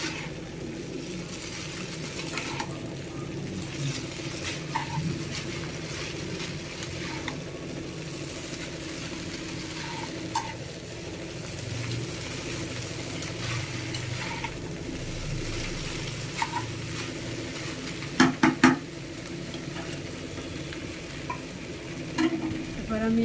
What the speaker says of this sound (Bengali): এবার আমি হালকা করে এটাকে নাড়িয়ে দেব।